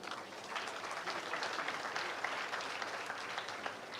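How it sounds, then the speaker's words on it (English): Audience applause at a Madaraka Day county event in Wajir, a dense, even wash of many hands clapping together, fairly distant and soft, holding steady for several seconds. "let's clap for them"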